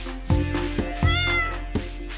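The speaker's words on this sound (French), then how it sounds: "Donner de l'eau au chat." A cat in the game Stardew Valley meows several times in quick succession, short clear bright calls, close and loud, with no talk.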